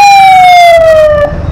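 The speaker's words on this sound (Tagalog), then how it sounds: "Ayun, oh. May ambulansya." A loud ambulance siren wails close by on a narrow two-way road in Quezon, Philippines, its steady tone sliding slowly downward as it passes.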